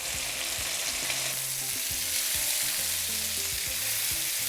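Salmon fajita filling with vegetables fries in a pan, a dense, continuous hiss of sizzling oil, close and even throughout with no talking.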